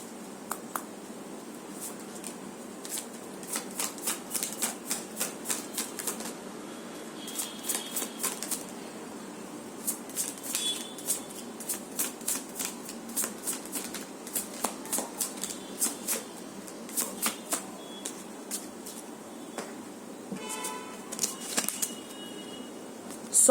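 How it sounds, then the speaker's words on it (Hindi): Oracle cards being shuffled by hand, a quick run of soft papery riffles and flicks that repeats steadily at close range, with no talking over it. "ऑरेकल से मैं 3 कार्ड्स लूंगी और देखती हूँ कि क्या आता है"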